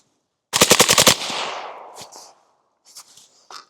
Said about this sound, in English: Let's go ahead and dump the rest of the mag